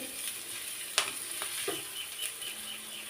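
Onions frying in a pan for a hotel-style ludus dish, a soft steady sizzle with a few light clinks of stirring, fairly quiet and without talk.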